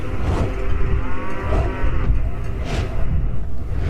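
A water buffalo bellows three times in loud, deep, drawn-out moos, close by, each call rising and falling with brief gaps between.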